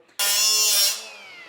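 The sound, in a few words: cutting brass tube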